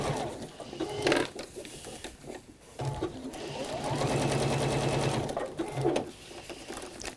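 A sewing machine stitches fabric in steady running bursts, close and clear, with brief pauses and fabric handling between stretches of humming needle rhythm.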